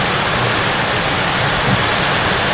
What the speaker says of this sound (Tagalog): Lakas ang ulan!